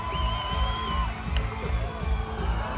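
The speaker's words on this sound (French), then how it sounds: "un tonnerre d'applaudissements pour le seigneur de la Roche-Brillant qui s'élance" Crowd at an outdoor equestrian show, a medieval-style jousting spectacle, cheering and shouting with children's voices in a steady, dense roar, with a long whistle heard near the start.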